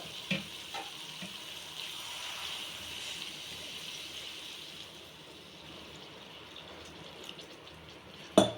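Water is poured into boti (goat tripe) curry cooking over a high flame, giving a quiet, steady sizzle and hiss that fades a little toward the end before a short clatter.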